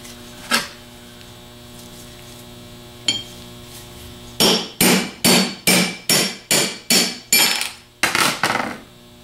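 Hammer strikes a 3/8 medium extension to drive a bushing into the nose piece of a 42MT starter: two isolated taps, then a rapid run of about ten ringing metallic blows, close over a steady background hum.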